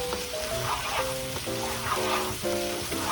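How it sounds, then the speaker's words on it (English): Beans fry with dry dill in a pan over high heat, sizzling steadily and crackling softly, with a few faint tonal clinks recurring at regular intervals. "So dry dill as well, and fry together in high heat"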